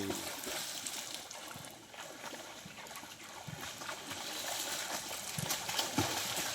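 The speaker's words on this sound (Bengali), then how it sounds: "ও গ্রামে পুকুরে সাঁতার কাটতেছে" A child swimming in a village pond, with steady watery sloshing and soft splashes nearby, continuous and moderately quiet throughout.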